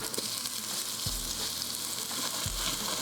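Meat for carne adobada sizzles and crackles steadily in hot oil in a pan, a dense close frying hiss with a couple of low thumps.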